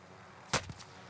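A single sharp, booming rifle shot in Call of Duty Warzone, fairly near and alone against quiet background, followed by a short echoing tail.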